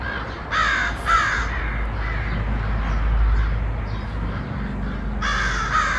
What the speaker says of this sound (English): right now 3 more birds came over to this tree